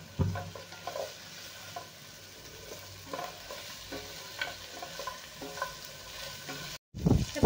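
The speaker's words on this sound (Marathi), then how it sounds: "आता हे सगळा मसाला एकदा छान मस्त भाजून घ्यायचा आहे आपल्याला" Spices, cashews and green chilies roast in a kadhai, giving a low sizzle under frequent scraping spoon strokes, with a brief gap near the end before louder stirring resumes.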